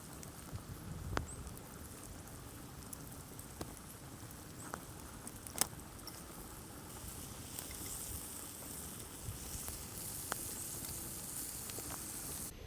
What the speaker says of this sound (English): let that bacon fry